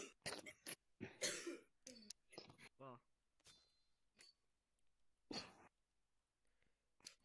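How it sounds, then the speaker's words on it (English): A single cough rings out among chatter and game audio while people watch Demon Slayer, the talk continuing around it. "He just coughed on you."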